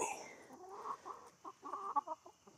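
Chickens cluck in a series of short, soft bursts at close range, part of a backyard setup fed on aquatic plants and fish waste, with a faint high steady tone lingering behind them.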